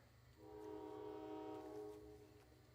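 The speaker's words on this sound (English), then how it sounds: "the train says hello" A passing train sounds a long, steady horn in the distance, one sustained chord held for about two seconds over a low rumble, faint and heard without talk.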